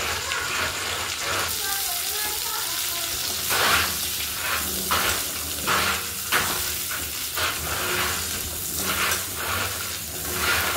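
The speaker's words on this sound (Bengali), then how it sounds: "ওর মধ্যে আরেকটু তেল দিয়ে দিচ্ছি, দিয়ে পটলগুলোকে ভেজে নেব।" Pointed gourd pieces frying in oil with turmeric and salt, a broad hiss and sizzle with repeated bursts of stirring and scraping across the whole stretch, close by.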